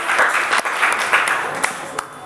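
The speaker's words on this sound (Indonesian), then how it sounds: "tepuk tangan buat kalian semua" A classroom of students bursts into brief, lively applause for their classmates, a close, busy patter of clapping with some voices mixed in.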